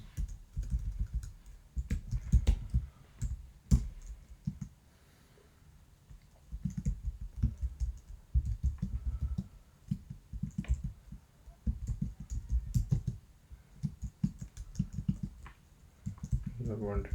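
Computer keyboard typing while coding a Python assignment on a quadratic equation, with quick clustered key clicks in bursts and a brief pause, heard close and moderately loud alongside a speaking voice.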